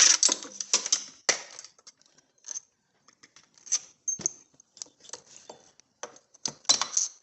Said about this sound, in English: there's 3 bolts, 3 8mm bolts. We'll go ahead and remove those.